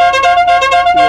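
Air horn on a small Zedone vehicle blaring a loud, steady multi-tone blast that holds for about a second, close by with no talk over it.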